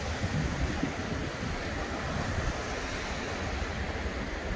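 Cold ocean waves on the Taiwan coast make a steady, loud wash of surf with wind rumbling against the microphone, constant throughout with no voices.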